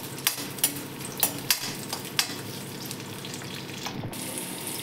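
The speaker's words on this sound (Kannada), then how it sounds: "ಬೆಳ್ಳುಳ್ಳಿ ಹಾಕ್ತಾ ಇದ್ದೀನಿ. ಈರುಳ್ಳಿ, ಇದನ್ನ ಫ್ರೈ ಮಾಡ್ಕೊತಾ ಇದ್ದೀನಿ." Garlic and onion sizzle steadily in a little hot oil, close by. A few sharp clicks and taps of a spoon against the pan sound through the frying.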